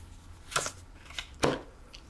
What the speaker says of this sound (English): let's deal some cards